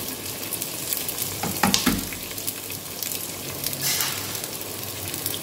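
Carrot and curry leaves hit hot oil in a pan for mixed vegetable rasam, giving a close, steady sizzle with a brief louder crackle and spatter midway.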